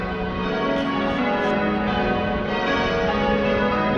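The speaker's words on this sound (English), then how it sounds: "There's like some sort of bells that's ringing." Church bells ring steadily on a Sunday in Sydney in a dense, overlapping wash of tones that hums on without pause for the whole stretch.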